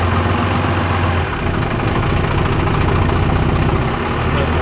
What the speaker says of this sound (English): I put my foot on the throttle and I give it just enough RPM to stay idling.